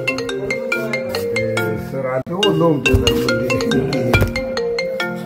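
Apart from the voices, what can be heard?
mobile phone ringtone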